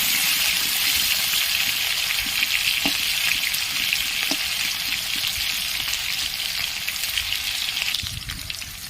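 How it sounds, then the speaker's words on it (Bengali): Potatoes frying in a pan for mutton curry give a steady, loud, close sizzle and crackle that runs unbroken throughout, with occasional faint stirring clicks and no talking. "একদম লাল লাল করে আলুগুলো কিন্তু ভেজে নেব।"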